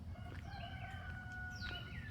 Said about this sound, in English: there's a rooster and some goats next door